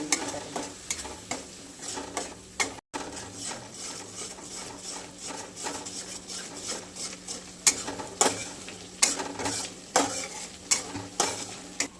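Methi and peas curry is stirred in a pan, with repeated scraping and clinking of a spoon against metal over a low sizzle, close by with no talking.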